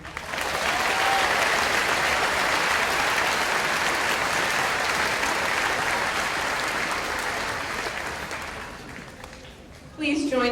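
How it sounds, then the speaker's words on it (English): Sustained applause from the audience at a 2013 Thomas Middle School graduation ceremony, steady dense clapping for the graduating students that fades slightly before ending, with a voice briefly at the close. "giving these outstanding students one more round of applause"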